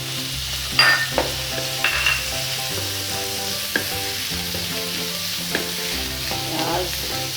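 Onions sizzle steadily in a hot pan while a spoon stirs and scrapes at intervals, producing a continuous close frying hiss punctuated by soft clinks.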